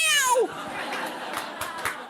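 A comedian's voice imitates a cat yowling during a club stand-up set, a rising then falling wail lasting under half a second, followed by crowd noise and scattered laughter.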